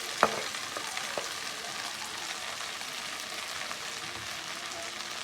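Drumstick leaves fry in a tempering pan with a close, steady crackling sizzle, opened by a sharp click of a utensil against the pan and followed by a few softer taps.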